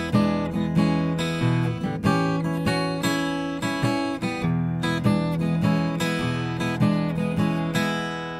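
Acoustic guitar playing a blues quick-change progression in E, with strummed chords and single-note runs in a steady shuffle rhythm, close and clear with no talking.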